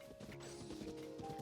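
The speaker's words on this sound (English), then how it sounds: "Look at the horsies." Horse hooves clip-clopping in The Legend of Zelda: Tears of the Kingdom, a brief run of hoof knocks and clatter over steady game ambience and music, moderately loud.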